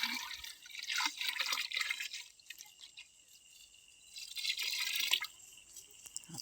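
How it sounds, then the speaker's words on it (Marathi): Jaggery water poured for a farm culture mix, a light trickling, splashing flow that swells, eases off, then returns, heard up close with no talking. "आपण आता टाकूत तर हे गुळाचं पाणी"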